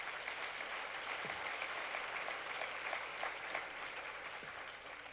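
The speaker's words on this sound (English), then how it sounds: "Absolutely give yourselves a round of applause." Applause fills the hall at a women in leadership awards event at the Kravis Center, a broad, even wash of many hands clapping, steady and fairly soft, tapering gently near the close.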